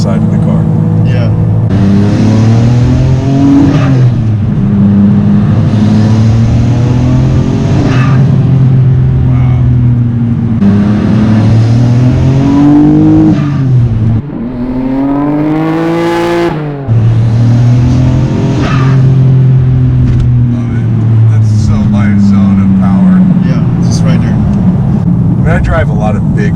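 A Nissan R34 Skyline GTR V-Spec engine drones under steady, close cabin talk, its pitch rising and falling as it is driven, with a brief louder rev midway.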